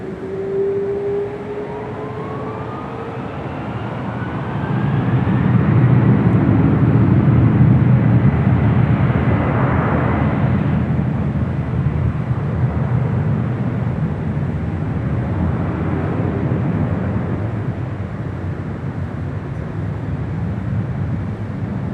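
Delta 465, a heavy jet airliner, takes off from runway 24 left at LAX, its deep engine roar swelling from a distance into a loud sustained rumble that lingers and slowly fades, with a rising whine at the start.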